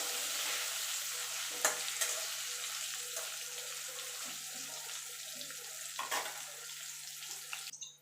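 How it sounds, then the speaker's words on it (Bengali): Potato pieces seasoned with salt and turmeric fry in hot oil for a Bengali potol-shrimp dish, giving a steady soft sizzle with occasional stirring clatters and scrapes, quiet and continuous. "দিয়ে আলুটাকে আমি লাল লাল করে ভেজে তুলে নেব।"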